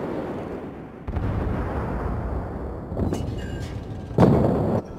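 Warship firing armour-piercing shells in the World of Warships naval game, heavy booming salvos with rumbling tails, several blasts in sequence, loud and close.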